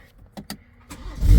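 A BMW X3 M40i starts up after a Dorch 2.5 high-pressure fuel pump install: a few quiet clicks and whirs, then the engine cranks and catches with a rising, loud low rumble at the end.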